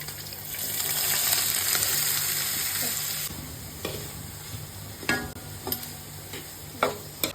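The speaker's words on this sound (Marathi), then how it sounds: "दहा बारीक चिरलेले कांदे आपण ऍड करूया" Ten finely chopped onions dropped into hot oil with cloves, black pepper and slit green chillies for chicken dum biryani, setting off a loud hissing fry that eases into a quieter sizzle broken by scattered clinks and stirs.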